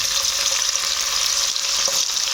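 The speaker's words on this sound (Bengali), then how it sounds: "তেল গরম হয়ে গেছে আমি এবারে চিংড়ি মাছগুলো তেলের মধ্যে দিয়ে দেবো" Prawns dropped into a little hot oil in a pan give off a loud, steady frying sizzle with a dense crackle that holds evenly throughout, with no voices.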